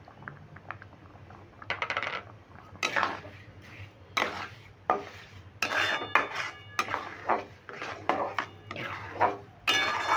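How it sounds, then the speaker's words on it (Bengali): Kheer with cardamom and sugar being stirred in a metal pan, an irregular run of scraping and clinking spoon strokes against the pan, close and moderately loud, with no speech. "এইভাবে নেড়ে নেড়ে আমি ক্ষীরটা রেডি করে নিচ্ছি"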